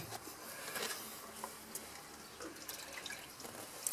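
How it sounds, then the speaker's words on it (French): A small detailing brush is swished and rinsed in clean water during interior car detailing, giving faint, close splashing and trickling with a few drips, quiet and steady with no voices. "Toujours bien rincer donc sa petite brosse, c'est très important."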